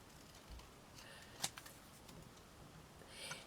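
Scissors snip paper pieces for a beginner's scrapbook journal, a few short, crisp cuts in a quiet room with light handling noise between them.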